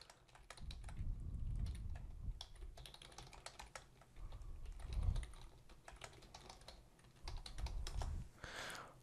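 Rapid keyboard typing clicks away close up as column headings are entered into an Excel spreadsheet, a dense run of keystrokes with occasional heavier thumps and brief pauses.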